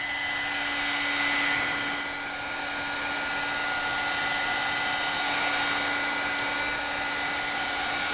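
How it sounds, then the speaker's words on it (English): A heat gun blows steadily to dry alcohol ink on a paper tag, giving a continuous close, loud airy whir with a constant pitch and no pauses. "And then you're going to hit it with the heat gun, and it'll move it around."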